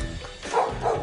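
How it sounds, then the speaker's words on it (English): Neighbouring dogs next to a garden in Australia bark in two close, fairly loud woofs over a brief background murmur. "Not sure I could cope with that dog barking all day"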